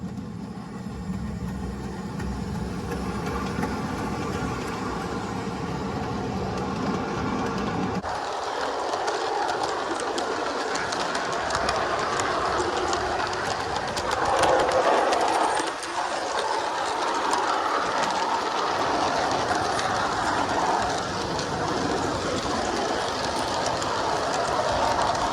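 Mamod model steam locomotive with a cracked gear pulling old Mamod wagons outdoors, a steady mechanical whirring and rattling clatter running throughout, with a change in tone partway as it moves along.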